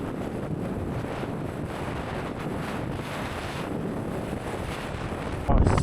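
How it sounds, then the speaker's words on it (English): Strong wind buffets a microphone high on the mountain Helvellyn, a dense, continuous roaring rush with no pauses, growing harsher in a sudden gust at the end. "Probably still sounds windy to you guys"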